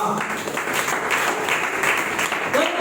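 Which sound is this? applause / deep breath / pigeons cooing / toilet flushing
applause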